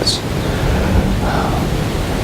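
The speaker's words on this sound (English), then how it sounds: "It's still extremely windy out." Strong wind roars across the microphone outdoors at a whitetail deer hunt, a heavy, steady rumble with gusty buffeting, loud and unbroken.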